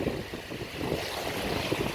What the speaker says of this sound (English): It's really windy right now.